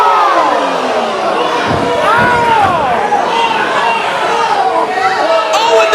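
Arena crowd at a hockey game cheering and shouting in a loud, continuous roar, with excited voices rising and falling close by throughout.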